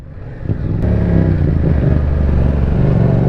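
A 2022 Yamaha R7 sport bike's engine rises from a low rumble into a loud, sustained rev heard up close, with no talk over it.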